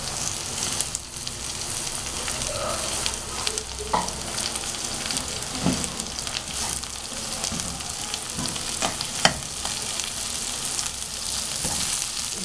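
Chopped onions fry in ghee in a pan, a steady close crackling sizzle with scattered small pops and clicks throughout and no talking.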